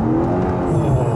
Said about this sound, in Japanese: エンジン音がね、聞こえてくるような感じがしますね